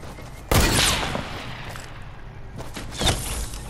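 Two sharp sniper rifle shots in the Fortnite video game, one loud crack followed by a decaying tail, then a second fainter report about two and a half seconds later.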